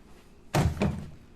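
Lower receiver and pistol grip of a Beretta ARX160 .22LR rifle releasing: a single loud near thunk, followed a moment later by a softer second knock, in a quiet room.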